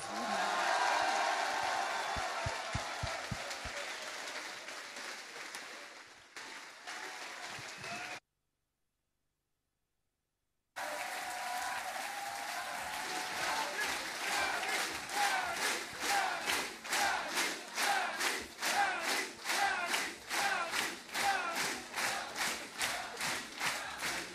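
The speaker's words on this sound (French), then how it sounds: "Je vous invite à acclamer Yanis Varoufakis." A large audience at the 2015 Humanity Fair cheers and shouts to welcome Yanis Varoufakis onstage. The loud crowd roar drops out briefly, then comes back as rhythmic, rapid applause that continues to the end.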